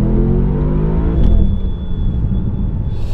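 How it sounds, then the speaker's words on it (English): A 2023 Porsche Panamera Turbo S makes a launch-control start, its engine roaring loud and steady at high revs, then surging with a brief shift blip before the strong rumble settles slightly as it accelerates. "Let's quickly see if it has launch control."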